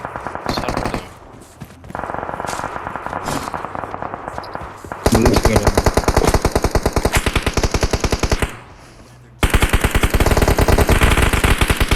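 Automatic gunfire in PUBG Mobile erupts in long, loud rapid-fire bursts, separated by brief lulls and a short pause before a final sustained volley.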